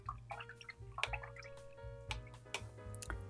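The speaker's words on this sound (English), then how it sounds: "Now I am going to rinse my brush" A paintbrush being rinsed in a water container during acrylic painting, with faint drips, small splashes and taps of the brush against the container, quiet and close.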